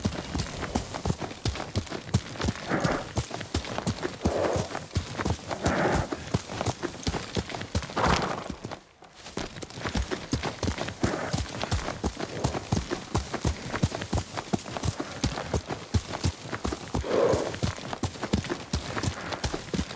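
Horse hooves clip-clop in a quick, steady rhythm in Ghost of Tsushima, a continuous run of sharp clopping beats with a brief pause partway through.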